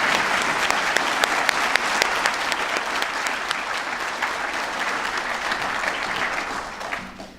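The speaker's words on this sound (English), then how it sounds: "could we have a round of applause for all of these students?" Loud, dense applause from a large crowd at a nursing graduation ceremony, sustained and even throughout before tapering off at the very end.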